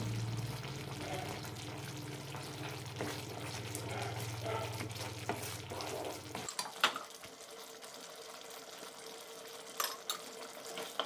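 Beetroot halwa sautéed in ghee in a pan, with soft sizzling and spoon stirring scrapes, close and fairly quiet, while a low steady hum runs underneath for the first six seconds and then cuts out.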